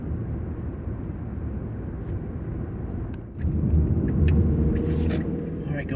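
A car drives through city streets in Danville, Virginia, with a steady road rumble and engine drone heard from inside the cabin that swells slightly halfway through, and faint ticks over it.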